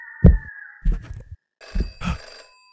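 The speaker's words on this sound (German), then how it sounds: "Oh, hier gibt's ein Telefon." An old telephone bell rings in a German-played horror game, a few separate ringing bursts with gaps between them, loud and close, with no talk over it.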